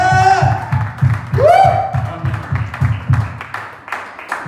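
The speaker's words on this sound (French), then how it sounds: "Applaudissez-le" Applause from a church congregation, blended with a steady rhythmic low beat and a rising, wavering voice, loud and continuous throughout.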